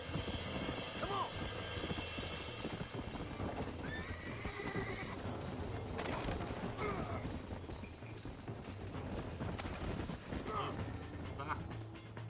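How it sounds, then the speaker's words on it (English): Horses in the Red Dead Redemption video game neigh and whinny while hooves clip-clop steadily at a gallop, loud and close, with a constant low drone and a voice talking over it. "I just got ran over twice by the damn horses"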